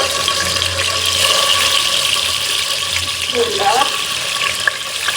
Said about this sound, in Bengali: আমি এখন সুন্দর করে ইলিশ মাছগুলো ভেজে নিই একটা একটা করে